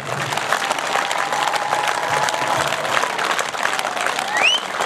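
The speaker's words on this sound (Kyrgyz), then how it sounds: "Кол чабуулар болсо." Applause from a crowd at an election rally in Osh, a dense, steady wash of clapping filling the whole stretch at an even loudness with no voice above it.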